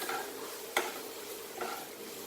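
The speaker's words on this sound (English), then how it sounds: "frying this onion" Steady sizzle of onion frying in hot oil, with a couple of short stirring scrapes against the pan.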